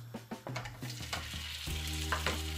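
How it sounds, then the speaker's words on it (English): Risotto base frying in melted butter in a pan, a close crackling sizzle with quick rhythmic scrapes and taps of stirring, set against sustained background music tones. "we're going to add our base risotto to this butter in the pan"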